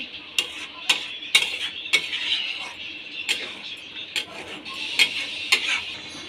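A spoon stirs soybean chunks and potato in a metal pan, scraping with sharp repeated clinks at an irregular pace over a steady background sizzle, close and fairly loud.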